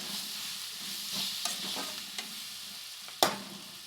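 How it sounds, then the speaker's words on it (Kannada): Mango chitranna seasoning fries in a pan, a soft steady sizzle under several spoon scrapes and taps, ending in one sharper clack of utensil against the pan. "ಚೂರು ಅದೆಲ್ಲ ಫ್ರೈ ಆಗಲಿ ಫ್ರೆಂಡ್ಸ್"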